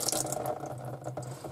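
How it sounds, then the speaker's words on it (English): Water runs through a bathroom sink drain pipe as a steady, gurgling flow, close and fairly quiet, with small splashing pulses and no talking. "Run some water through and see what happens."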